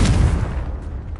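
Confringo spell blast from Hogwarts Legacy, a single loud booming burst with a brief low rumble that fades over about a second, heard alone without talk.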